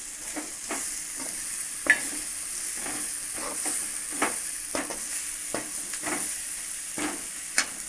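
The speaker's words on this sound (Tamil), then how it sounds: "இந்த கருவாடு பொறிச்சு வச்சுருக்கோம்ல இதை எடுத்து சேர்த்தலாம்" Fried dried fish (karuvadu) goes into a simmering curry and is stirred with a spoon, giving repeated scraping clinks against the pan over a steady, close sizzle, with no talking.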